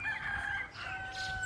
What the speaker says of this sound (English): You see that chicken over there?